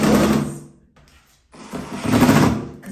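A power drill bores through a bathroom wall to hang a vanity mirror, two loud close buzzing bursts separated by a short pause.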